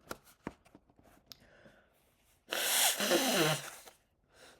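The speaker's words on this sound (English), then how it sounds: "I gotta blow my nose again." A single loud, forceful nose blow lasting about a second, preceded by quiet sniffs and small rustles.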